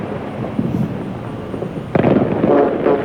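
On the 4th of July, a distant firework bang echoes back off a concrete building with a ridged facade, breaking into a rumbling, buzzy, fart-like flutter that swells near the end. It is fairly loud, with no speech.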